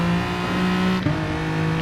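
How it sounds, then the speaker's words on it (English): A race car on the Nurburgring GP circuit pulls hard in third gear after an upshift, its engine a steady, loud drone that rises smoothly, with a brief blip near the middle of the run. "Now up to third, let the car go wide."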